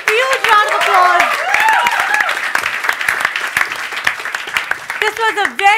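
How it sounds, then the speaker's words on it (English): A studio audience gives a round of applause on a comedy game show, a dense spread of clapping mixed with cheering and lively voices that fades slightly toward the end. "Give a huge round of applause."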